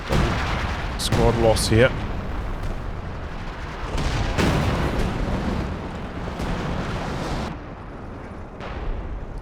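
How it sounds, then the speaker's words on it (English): Howitzer artillery fires in Company of Heroes 2 during a 2v2 match. Loud, near booms and bursts come in irregular volleys, with battle noise continuing between them and a voice speaking briefly early on. "The howitzers are popping off right now."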